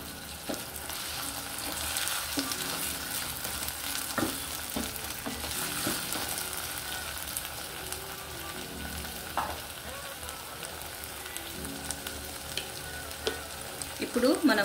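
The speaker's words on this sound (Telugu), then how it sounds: "ఇప్పుడు మనము ఇందులోకి 2 మీడియం సైజ్డ్ టొమాటోలు ముక్కలుగా కట్ చేసినవి వేసుకోవాలి." Two medium-sized chopped tomatoes hit hot ginger garlic paste in a pan, giving a steady, close sizzle and frying crackle with occasional stirring scrapes.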